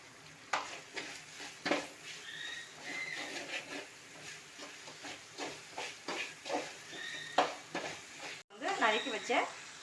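Onions sautéed with salt in a pan for egg fried rice give a gentle, steady sizzle and hiss, broken by intermittent spatula scrapes and knocks on the pan, close and fairly quiet, with a brief louder clatter near the end.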